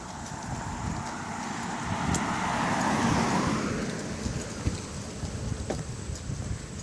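A car passing along a park road through a wooded metropark in autumn, its broad rushing swell rising and fading over a few seconds, with light footsteps and outdoor ambience around it.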